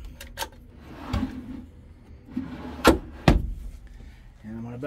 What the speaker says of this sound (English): Nice big pull-out drawers.